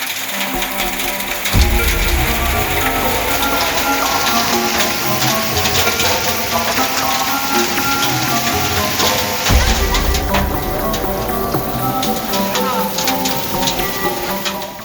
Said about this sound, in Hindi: और बूंदों के साथ मुफ्त मिले ओले।